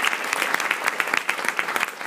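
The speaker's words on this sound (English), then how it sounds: "give Stefan Terblanche another big round of applause" Audience applause at a sports ambassador event, dense fast clapping from a crowd with sharp individual claps standing out, steady and fairly loud throughout.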